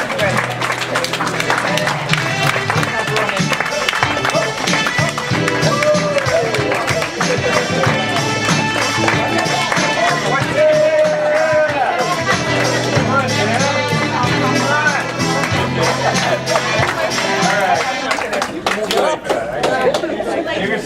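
An indoor audience at a Heart Smart health talk claps and cheers in a steady, dense wash of applause mixed with crowd chatter, loud and unbroken.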